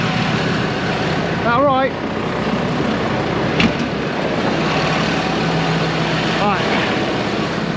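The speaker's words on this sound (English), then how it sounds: "We'll go and move this other tractor." A farm tractor engine runs steadily in the background while it is moved, a low continuous rumble with brief voices talking over it.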